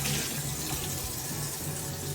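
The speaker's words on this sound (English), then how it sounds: "Let's get our mixing bowls rinsed out here." Running tap water pours steadily into a sink as mixing bowls are rinsed out, a close, continuous splashing rush with no talk.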